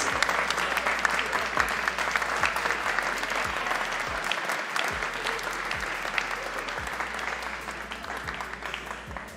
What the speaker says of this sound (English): please give another big round of applause to our winner right here